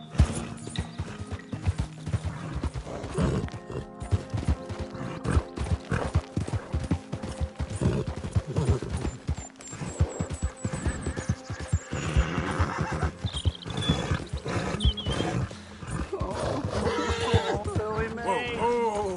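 Horse in Red Dead Redemption 2 galloping with rapid clip-clop hoofbeats and loud neighs and whinnies, mixed with game sound effects and a voice talking over it.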